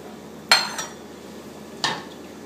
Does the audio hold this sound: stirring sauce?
yes